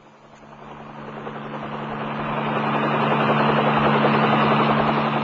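A helicopter approaches in Israel, its rotor and turbine drone swelling from moderate to loud over a few seconds and holding steady overhead.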